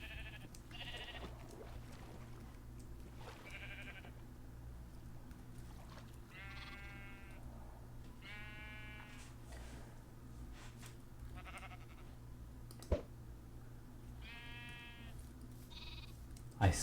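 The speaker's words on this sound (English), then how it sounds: "Get over here, you sheep." Sheep in a video game bleat several times in short wavering calls, spaced across a steady low ambient hum, with a sharp click near the end.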